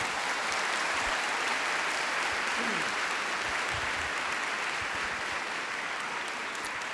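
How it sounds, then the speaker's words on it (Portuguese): A large congregation at a Catholic service applauds after a Bible reading, a steady, even wash of clapping that sounds distant and fills the whole stretch without talk. "Pode aplaudir a palavra."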